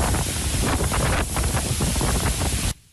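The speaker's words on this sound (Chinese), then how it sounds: "风太大，雨太大，没办法" Typhoon winds at landfall in southern Taiwan near Kaohsiung roar in heavy, continuous gusts that buffet the microphone, then cut off abruptly near the end.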